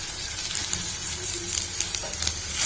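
Coriander, cumin and flax seeds roast in a hot pan, giving a steady close crackling sizzle with scattered small pops throughout, no voices.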